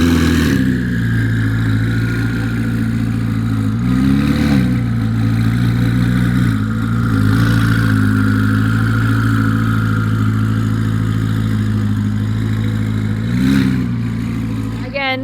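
A turbocharged Porsche engine idles close by with a steady, deep droning hum and a few light swells in pitch.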